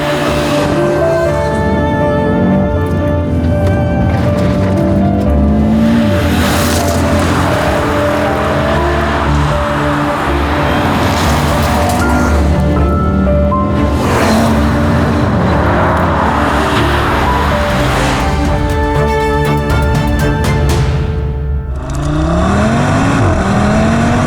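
The 2.5-liter single-turbo five-cylinder engine of a 2025 Audi RS3 sedan revs loudly and close, in repeated rising and falling bursts with a continuous rough growl between them.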